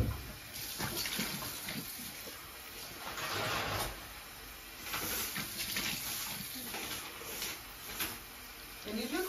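Water runs steadily from a bathroom tap into a sink while someone rinses their face, with splashing and patter throughout.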